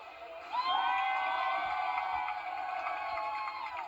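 Large outdoor crowd of about 2,000 people cheering as sea turtles head back to the ocean, a steady wash of voices and whoops holding loud and continuous throughout.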